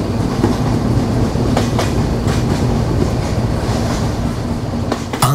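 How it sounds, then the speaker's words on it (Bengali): The Jahanabad Express, a Bangladesh Railway broadgauge intercity train, rolls slowly toward Daulatpur station, heard from inside as a steady low rumble with irregular wheel clacks and rattles over the rails, no speech. "আমাদের ট্রেনের গতি হঠাৎ অনেক কমে যায়, আর একদম ধীরে ধীরে আমরা দৌলতপুর স্টেশনের দিকে এগিয়ে যাচ্ছি"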